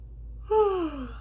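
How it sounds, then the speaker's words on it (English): A single soft human yawn, a brief rising breath that slides downward and fades within about a second, close and quiet with no talking. "I start yawning because it's just very powerful."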